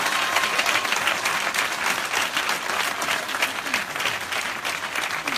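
Church congregation at the launch of a 21-day fast breaks into sustained, loud applause, dense clapping continuing evenly from start to finish.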